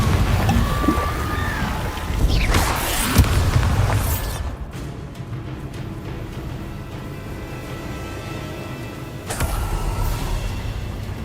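A Confringo explosion spell fired in modded Hogwarts Legacy: a loud booming blast with a rushing burst near the start, fading into a low rumble, then a second sharp impact toward the end.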